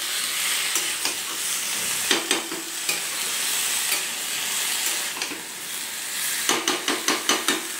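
Malabar spinach (pui shak) cooks in a pan over a steady frying hiss, broken by bursts of quick scraping stir strokes and utensil clacks against the pan, with no talking.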